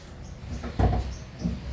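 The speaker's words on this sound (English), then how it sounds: "pull open the hood release lever near the driver's door and lift up the hood" A Kia Sportage hood being lifted after the release lever is pulled, a single close mechanical clunk and rattle in the middle, followed by a faint softer knock.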